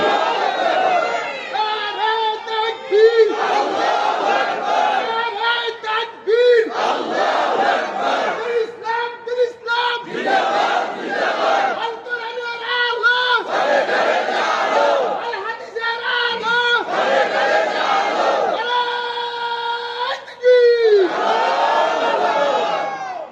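A large crowd at a Bangladeshi religious gathering shouts the takbir chant in loud, unified bursts that repeat in call-and-response rounds, each swell lasting a couple of seconds, with a leader's voice leading between them.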